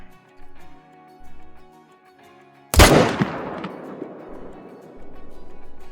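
A single loud rifle shot fired at a buck in the hunting video game Call of the Wild, a sharp close crack with a long rolling echo that fades over a few seconds against quiet outdoor ambience.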